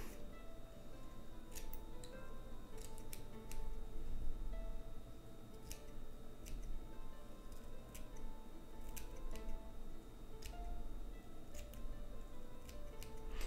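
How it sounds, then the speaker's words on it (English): Scissors snipping miniature static-grass tufts for a tabletop painting project, a run of small sharp clicks spaced irregularly, close by and crisp over a low steady background hum. "we take the scissors and we chop."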